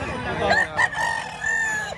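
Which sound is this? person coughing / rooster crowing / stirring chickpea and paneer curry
rooster crowing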